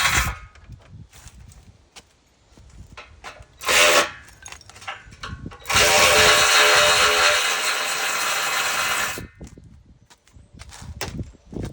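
Power tool working a bolt loose on a Ford Fusion: scattered clanks and handling noise, a short buzzing burst, then a long sustained whirring run of several seconds before quieter rattles resume.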